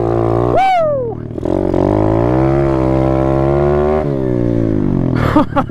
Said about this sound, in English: And then when you come out of it, do a little drift.